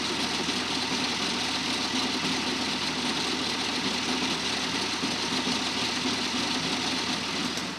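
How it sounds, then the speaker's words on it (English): A tractor-pulled baler running steadily while net wrap is applied around a bale outdoors, a continuous loud mechanical drone with a busy rattling texture and no talking. "that shield that's on the furthest back of the baler is where your net wrap hides. And it's actually wrapping right now."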